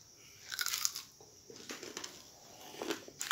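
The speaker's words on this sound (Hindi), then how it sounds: "ये मज़ेदार से कबाब चेक करते हैं।" Someone bites into crunchy daal chana kebabs and chews them right by the microphone, with a few crisp crunches separated by short pauses and no talking.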